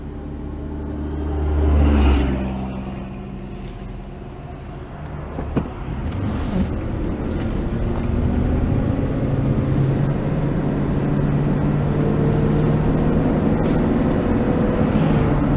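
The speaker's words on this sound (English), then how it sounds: "Have to wait for some traffic here before we get back out on the road." Road traffic rumbles past on a Missouri road, one vehicle swelling close and loud near the two-second mark before a steady low engine drone continues.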